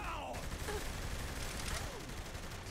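Gunfire in the video game Saints Row The Third: a dense, continuous rattle of shots in a sustained fusillade, with faint voices mixed in.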